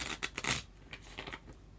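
A short burst of crisp riffling as tarot cards are shuffled, a quick flutter followed by a few softer taps, close and quiet.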